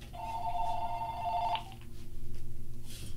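A telephone rings with a steady electronic trill lasting about a second and a half, close and clear over a low room hum, then a fainter pulsing ring follows.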